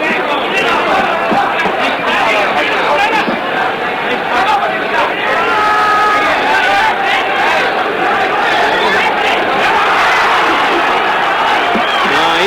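Large boxing crowd at a 1966 heavyweight bout in Frankfurt, Germany, cheering on their home fighter: a dense, continuous roar of voices and chatter with swelling cheers, steady and loud throughout.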